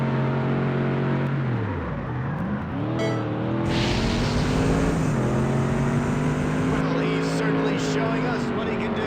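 A race car engine in a Ford vs Chevy racing video game drones steadily, dips sharply, then climbs again as the car powers on, with a constant loud synthetic engine tone throughout.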